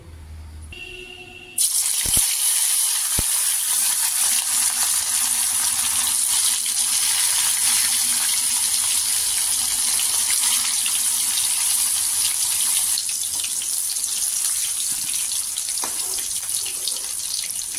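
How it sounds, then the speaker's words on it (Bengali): Snakehead fish pieces coated in salt and turmeric hit hot oil after a brief quiet moment, then a loud, dense sizzle carries on steadily to the end. "এইবারে আমি নুন হলুদ মাখানো শোল মাছের টুকরোগুলো দিয়ে তেলের মধ্যে ভালো করে ভেজে নেব।"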